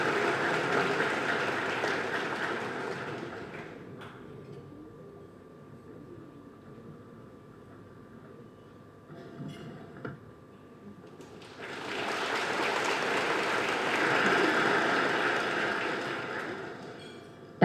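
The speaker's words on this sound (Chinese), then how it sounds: "请大家以热烈的掌声鼓励" Warm applause from an audience welcoming Taiwan's president to the stage swells, fades to a quieter murmur in the middle, then rises again into a broad, sustained round of clapping.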